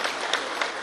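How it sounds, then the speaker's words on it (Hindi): Applause from a conference audience at a tech growth event in Bhopal, a short burst of dense clapping with a couple of sharper peaks, fairly loud and without talk. "जोरदार तालियों के बीच"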